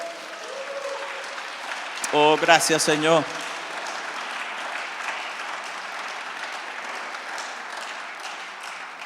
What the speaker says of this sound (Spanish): Dale un buen aplauso a nuestro Dios.